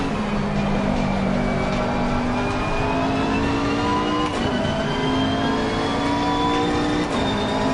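Race car engines roaring in Assetto Corsa Competizione, including a Lamborghini, with a loud sustained engine whine that rises steadily in pitch through the gears and shifts mid-clip, no voices.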